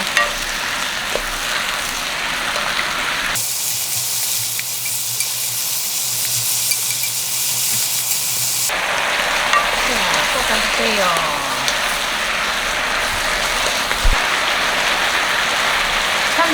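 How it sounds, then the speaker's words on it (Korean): Gourd and perilla seeds stir-fried in a pan, a loud, steady sizzle and hiss broken by a pause mid-way before the frying noise resumes, with brief faint voice murmurs. "이렇게 또 볶아줍니다"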